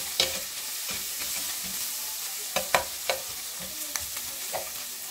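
Fish and vegetables sautéed in a pan, stirred with a utensil: a soft, continuous sizzle broken by several sharp clinks and scrapes of the utensil against the pan, close by.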